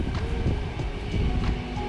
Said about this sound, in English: There's also just a bit of noise for me because I live just beside the train station.